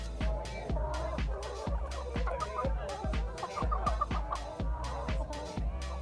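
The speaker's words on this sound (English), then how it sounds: "let's go look at the chickens." A flock of chickens clucks in a steady, rhythmic run of short repeated calls, close by and continuous over several seconds.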